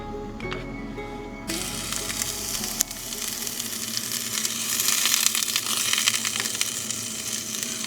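Plantains for tostones fry in oil in a small pan, giving a steady, loud crackling sizzle that swells slightly louder toward the end, with no voices.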